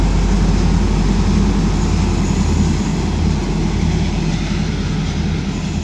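Steady low rumble of a local train at Ban Mai railway station in Thailand, loud and continuous, with rail and engine noise filling the whole stretch and no talking.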